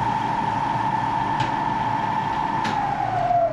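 A wood lathe spinning a rough-cut sycamore blank up to about 1400 RPM gives a loud, steady mechanical whine with a constant hum, and the pitch sags slightly near the end.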